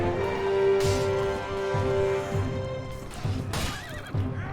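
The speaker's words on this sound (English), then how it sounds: "And your horse is dead." In the medieval battle game Prophesy of Pendor, a horse whinnies loudly with a long high neigh among clopping hooves and battle clatter, followed by another shrill whinny near the end.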